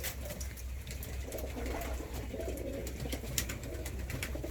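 Twelve yellow Volski pigeons coo softly and repeatedly at close range over a steady low background hum.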